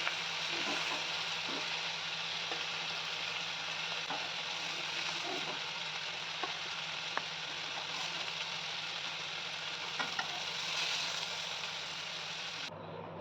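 Fish, parshe mullet for a curry, frying in hot oil in a pan: a steady close sizzle and spatter that runs unbroken, with faint small pops and no talking.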